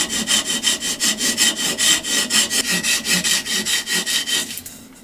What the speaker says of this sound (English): Using a spacer and a Japanese saw, I'm gonna cut most of the excess material,